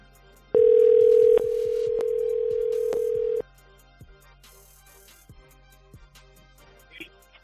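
An outgoing telephone call rings through a handset: one long steady ring tone, followed by a few quiet clicks on an otherwise silent line.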